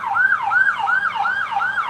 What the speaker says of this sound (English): Hey, we got sirens.